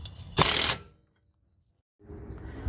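Impact gun on a strut bolt of a 2008 Lexus GS 460, the bolt held with a 19mm wrench: one loud, dense burst of hammering lasting about a third of a second, then silence before workshop noise resumes.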